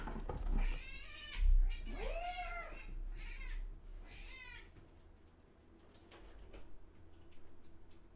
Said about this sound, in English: my kitten cat is screaming at me